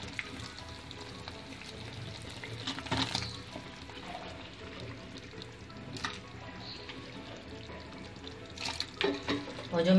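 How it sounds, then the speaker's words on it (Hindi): Kadhi, an Indian yogurt curry, comes to a boil in a pot, giving a soft bubbling and sizzling texture with a few louder splashy bursts near the end, and a person talks over it. "कड़ी को उबाल आने लगा है"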